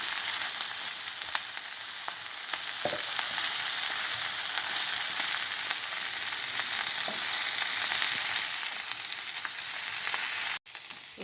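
Chopped kale frying in a pan and being stirred, an Indian-style preparation, with a steady dense sizzle and occasional scraping clicks of the spoon, close and continuous with no talk.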